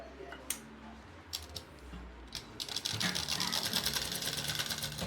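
A sewing machine stitches fabric while making a pocketed kachha undergarment, starting with a few scattered clicks and then settling into a steady, rapid run of stitching in the second half.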